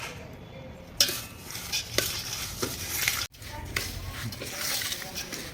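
Chickpeas, fenugreek and mango are mixed into a spiced base for pickle, making repeated wet scraping and stirring sounds with soft clinks of a utensil against the container. A voice can be heard faintly in the background.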